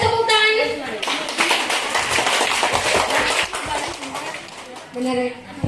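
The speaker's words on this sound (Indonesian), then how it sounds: "Dimas dan Riyandi, boleh tepuk tangan" Classroom applause from a group of students, steady clapping for several seconds after a teacher's call, with a voice briefly audible at the start and end.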